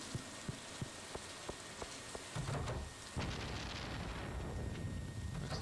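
Steady thunderstorm rain in Stardew Valley pours throughout, with sharp drip-like ticks early on and a deeper rumbling swell of thunder partway through, continuous and fairly close with no talking.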